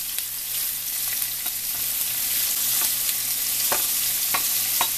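Onion and ginger sautéing in a pan, a steady close hiss of frying broken by sharp scraping clicks of a spatula stirring, with no voices.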